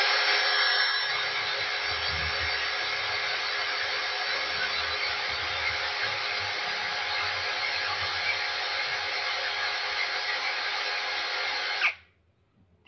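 An XAPR AP12plus cordless drill runs at speed setting 1 with the trigger fully pressed, turning just under 400 RPM. It gives a steady, close motor whine for about twelve seconds, then stops abruptly.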